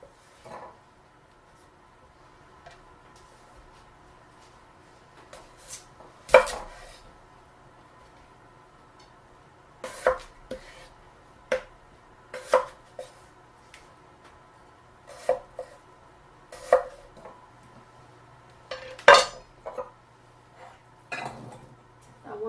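A knife cuts Yukon Gold potatoes into bite-sized pieces on a board, giving sparse, irregular sharp chops and taps, some closely paired, over a quiet background.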